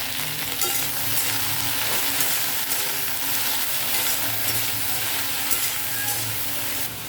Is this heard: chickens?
no